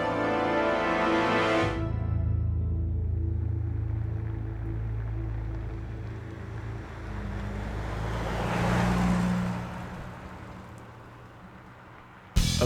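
A Ferrari California T's twin-turbo V8 engine revs sharply, then settles into a low droning rumble with wind roar, swelling again before fading.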